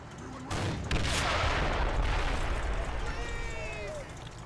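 A tank gun shot striking a machine gun position in a wartime tank game lands as a sharp blast, followed by a rumbling, crackling wash of battle noise with faint whistling tones near the end.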